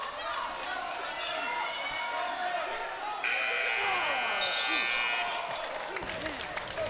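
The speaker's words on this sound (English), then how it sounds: "Nelson saved by the buzzer." A period-ending buzzer sounds at a wrestling match between Irondale and Centennial, a steady electronic tone lasting about two seconds, over a commentator's talk and the noise of the gym crowd.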